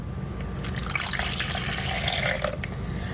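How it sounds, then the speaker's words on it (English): Warm water pours from a cup into a well of whole wheat flour in a bowl for homemade tortilla dough, a continuous close splashing trickle lasting a few seconds with no talking. "into the well you're going to put 1 cup of warm water"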